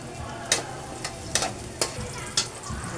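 Onions frying in a pan with ginger and garlic for a sweet and sour fish sauce, a soft steady sizzle broken by about five sharp scraping clicks of stirring, fairly quiet and close, with no talking.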